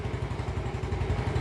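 A Yamaha Mio Sporty scooter engine runs close by with a rapid, pulsing putter, steady and moderately loud over a short stretch, with no talk.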